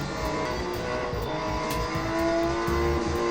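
Racing car engine in the mobile game Real Racing 3, played on a Mi TV 4 Pro, drones loudly and continuously with a rising rev and faint tire noise, no talking.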